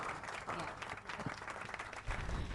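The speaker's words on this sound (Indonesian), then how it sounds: "beri tepuk tangan yang meriah untuk ketiga dajil kita hari ini" An audience at a live Ramadan afternoon entertainment show claps, a moderately loud spread of applause mixed with crowd noise and some voices.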